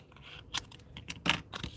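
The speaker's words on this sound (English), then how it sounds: "so for the navy, I'm going to snip this in half" Scissors snip navy paper die cut in half, a few close, crisp cuts and small paper crunches spread over about two seconds, quiet and with no talking.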